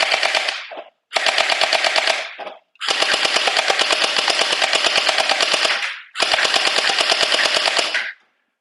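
Tracer Pulse style electric gel ball blaster firing in rapid full-auto bursts, four loud close strings of fast regular shots separated by brief pauses.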